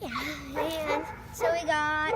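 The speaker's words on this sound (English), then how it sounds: "If you hear barking, that's my dog." A dog on a farm with chickens gives short yips and whimpering barks, faint and close together, while a person talks over them.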